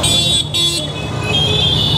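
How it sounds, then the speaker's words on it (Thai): Car horns blaring in heavy Dhaka traffic near the Motijheel metro construction site, a loud sustained honk with a brief gap, then more steady honking over road rumble. "บีบแตรกันไม่ขาดสายเลยครับ"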